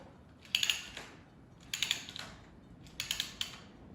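A Marx M10000 toy train, a wind-up model on mismatched track, rattles and clicks in three separate bursts of rapid mechanical ticking with quiet gaps between them.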